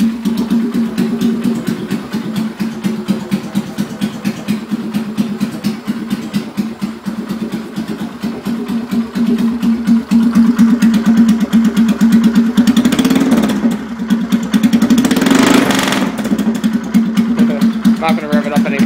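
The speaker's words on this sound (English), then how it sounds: "Not going to rev it up any more than that" A 2011 Polaris Sportsman 500 ATV engine runs close up with a steady, loud, rapid thumping idle, then revs up in a couple of rising surges before settling back to idle.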